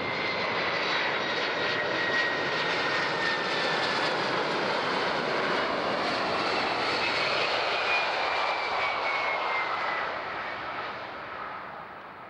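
A United airliner lands on runway 14 at Zurich airport, its engines a loud, steady roar with a whining tone that holds for several seconds and then slowly fades toward the end.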